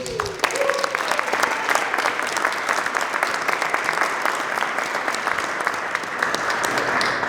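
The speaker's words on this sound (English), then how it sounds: "See, I know how to give applause." Sustained audience applause fills a room at a local news media panel event, steady dense clapping from many hands continuing throughout at even strength, with a voice briefly audible near the start.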